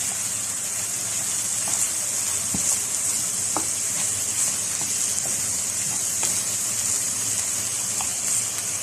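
Minced meat with garlic powder, coriander, cumin, black pepper and salt frying in a pan, a steady close sizzle with scattered scraping clicks of stirring throughout, no voices.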